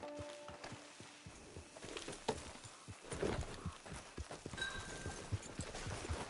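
Horse hooves clip-clopping at a steady walking pace in the Red Dead Redemption 2 video game, a continuous rhythm of moderately loud hoofbeats near the listener over a murky ambient outdoor background, with no speech.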